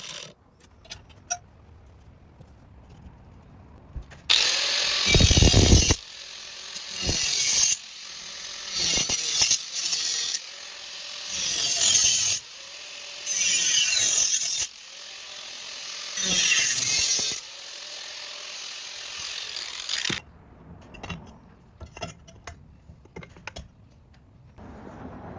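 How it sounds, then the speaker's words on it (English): A cutting tool grinds through an old nut and bolt on a BMW S1000R motorcycle exhaust, in loud repeated bursts of several seconds each separated by short pauses, ending with quieter handling noises. "Just cutting off the old nut and bolt since that won't work for me."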